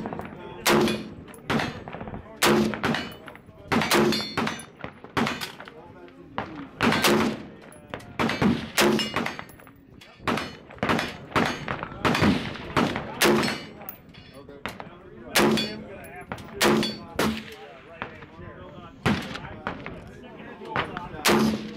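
Rapid volleys of rifle shots from a DoubleStar C4 at a shooting range, sharp loud reports in bursts and single shots with short pauses between them.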